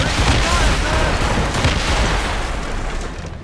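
Ship cannons firing a broadside in Assassin's Creed Rogue during a naval battle, a loud dense rumbling volley of overlapping booms that slowly fades, with shouting crew voices under it.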